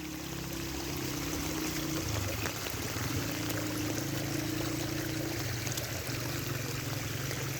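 Floodwater from a heavy storm pouring and rushing across a road, a steady, fairly faint churning flow with trickling and splashing, no talk.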